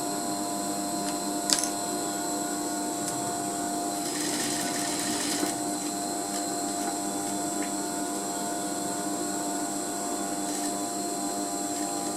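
Sewing machine stitching along the waist seam of a skirt, a continuous close mechanical whir and hum with faint clicks, running steadily without pauses and with no talking.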